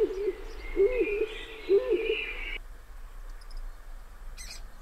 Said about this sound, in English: some recently fledged stock doves that were still demanding to be fed